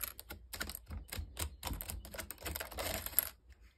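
Keys clacking on a fire-damaged computer keyboard after a house fire, a quick irregular run of sharp taps and presses up close, loud and dense with no talking.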